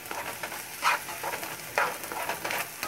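Garlic sizzles and fries in a hot pan for turmeric rice, a steady crackling hiss with occasional louder bursts as it is stirred.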